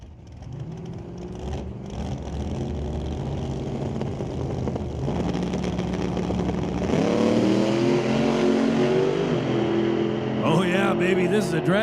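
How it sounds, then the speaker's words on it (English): Drag race cars at a Lordco Auto Parts Smoke Fire and Thunder elimination roar continuously, with the engine noise swelling louder midway as they race, and announcer commentary running over the top. "this is a drag race"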